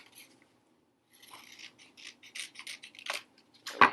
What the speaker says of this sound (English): I'm going to make one little trim over here next to the letter O.